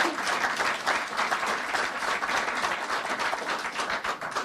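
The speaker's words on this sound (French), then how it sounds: "Il mérite nos applaudissements chaleureux." Dense, warm applause from a crowd welcoming a premier at a political event in Lévis, continuous clapping filling the whole stretch without pause.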